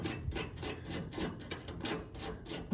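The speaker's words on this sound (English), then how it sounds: "you can always take a small wire brush," A small wire brush scrubs the air vent of a Weber gas grill in quick repeated rasping strokes, an even back-and-forth scratching rhythm heard up close with no talk.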